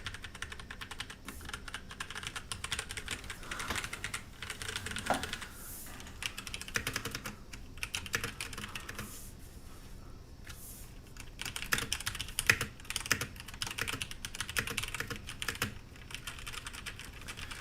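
Continuous typing on a Das X40 mechanical gaming keyboard with removable face plates, a dense run of close, crisp key clicks and clacks with brief pauses, steady throughout and with no talking.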